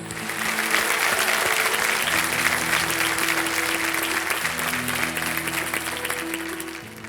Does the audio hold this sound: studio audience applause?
yes